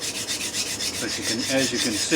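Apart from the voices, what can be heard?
knife sharpened on 400 grit Atoma diamond plate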